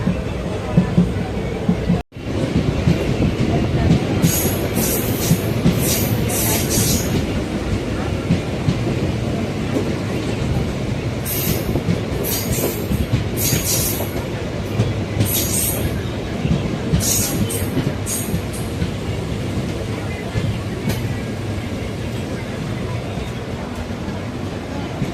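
A Sengottai–Tirunelveli passenger express train rolls along the rails with a loud, continuous rumble. Repeated bursts of high wheel squeal break through the rumble.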